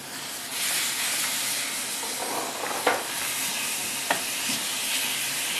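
Tuna searing in a hot pan gives a continuous hissing sizzle with a few brief scraping clicks as the fish is moved, close and fairly loud.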